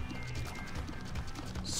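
In The Binding of Isaac: Rebirth, a horsemen boss gallops with a rapid, even clip-clop of hooves, fairly faint, alone, with a brief bright flourish at the end.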